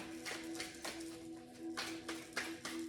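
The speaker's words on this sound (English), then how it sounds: "my dog's going to get a kick up the arse if he keeps banging on that door" A dog bangs against a door indoors, a series of sharp knocks in an uneven rhythm over a low steady hum.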